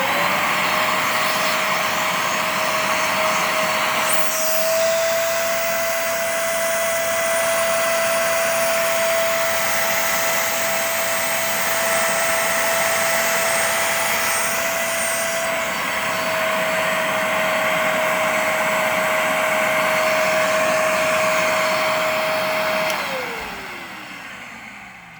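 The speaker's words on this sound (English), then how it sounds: "I'm gonna go ahead and show off the demonstration of the hose clean port," A Hoover Spotless spot cleaner runs its hose clean port with a loud, steady motor whine and a high, constant tone that holds for over twenty seconds before powering down, with no talking.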